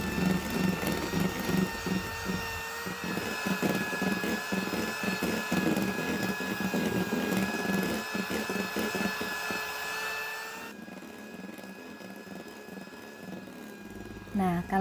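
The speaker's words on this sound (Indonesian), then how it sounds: "kalau pakai hand mixer itu kurang lebih 10 sampai 12 menit itu butter ataupun margarinnya sudah mengembang" A hand mixer beating margarine for a layered pineapple cake batter whirs steadily and continuously up close, with rhythmic scraping pulses from the beaters, before the pitch shifts and the motor runs on more quietly near the end.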